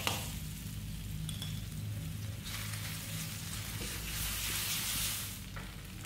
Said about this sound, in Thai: ใส่น้ำมันนิดหน่อยแล้วก็ใส่กระเทียมกับรากผักชี แล้วก็ใส่กะปิ1ช้อน